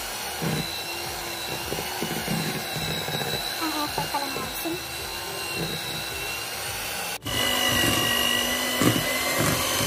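An electric hand mixer whirs steadily while whipping frosting for a red velvet cake, with a continuous motor drone that cuts briefly and then resumes louder.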